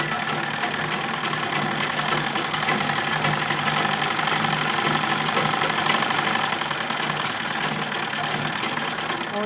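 A sewing machine stitches along the edge of buckram, running continuously with a steady, close, buzzing mechanical whir and no pauses.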